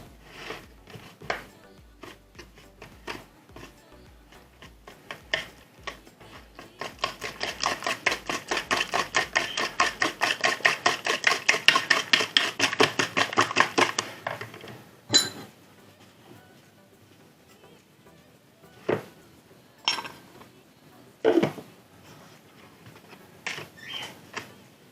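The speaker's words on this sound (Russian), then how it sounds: "Взбиваем до полного растворения сахара." Eggs being whisked with a sugar and starch mixture for a sponge cake, a dense rapid ticking of the whisk against the bowl that builds loud and steady in the middle, then gives way to scattered knocks and clinks.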